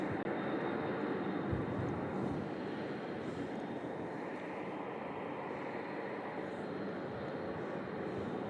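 A Boeing 747 airliner taxis at Louisville International Airport, its engines giving a steady, broad, droning roar that holds at an even loudness throughout without a break.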